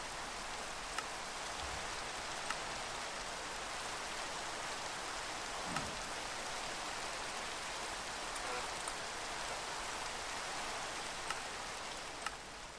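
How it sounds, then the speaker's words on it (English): Steady rain falls in the video game Minecraft, playing the All The Mods 10 To The Sky modpack, a soft continuous hiss kept fairly quiet, with faint clicks now and then. "Let me turn the rain down too."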